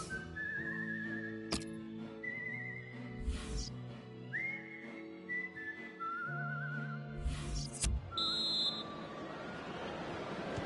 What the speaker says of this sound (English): 2-2 as the half-time whistle goes.